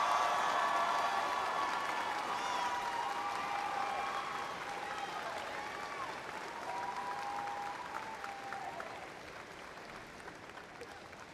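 Graduation audience at an early college high school ceremony applauding and cheering, a dense, sustained wash of crowd clapping with faint voices and cheers that slowly eases in level.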